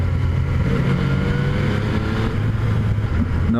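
A 2017 Yamaha FZ-09 motorcycle engine revs hard up a steep hill, a loud, continuous growl with rising pitch and a brief dip as a clutchless gear shift is made, heard close without talk.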